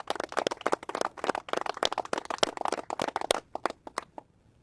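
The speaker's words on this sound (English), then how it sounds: "So can we give them a round of applause too, please?" An audience claps at a governors' press event on border security, a moderately close burst of applause that thins to a few scattered claps before fading out.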